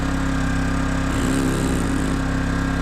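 A WEN 3600 portable generator engine drones steadily and loudly close by during break-in, a constant mechanical hum with no break for the whole stretch.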